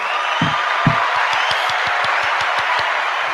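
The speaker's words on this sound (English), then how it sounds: "Let's give her a nice round of applause" A round of applause on a morning show, with a wash of crowd clapping and a steady series of low thumping beats underneath it.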